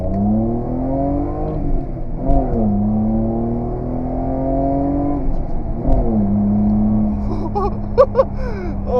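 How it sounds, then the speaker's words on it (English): A Toyota Supra engine revs hard on launch and climbs through the gears, its loud droning pitch rising in steps and dropping at each shift, close and continuous. "First time launching the car in 2020."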